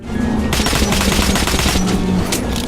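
Loud, sustained automatic gunfire from the video game Metro Last Light, a rapid burst of shots that rattles on for several seconds with no voices over it.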